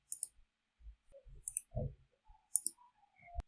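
Several sharp, quiet mouse clicks at irregular intervals, separated by short pauses of near silence.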